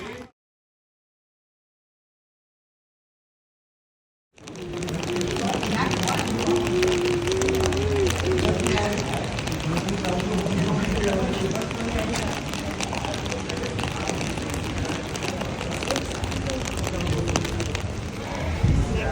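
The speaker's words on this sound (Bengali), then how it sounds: "অনেক বৃষ্টি হচ্ছে এখন" Heavy rain falls on the market place in Hallstatt, Austria, a steady, dense hiss that starts abruptly after a few seconds of silence and continues unbroken, with some faint background sounds mixed in.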